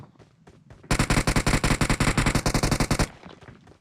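Automatic gunfire in PUBG Mobile, one loud sustained burst of evenly spaced rapid shots lasting about two seconds, close and punchy, framed by faint scattered game sounds before and after.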